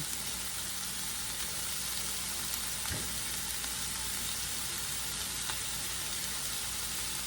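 Shrimp toast topped with cheese sizzles in a pan over low heat, a steady, fairly faint hiss of frying with a couple of soft clicks, and no voices.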